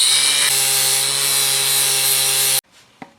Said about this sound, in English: I'm grinding down this bolt head a little bit because it was touching the motor mount